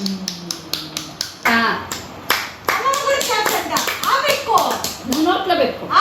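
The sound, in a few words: hands clapping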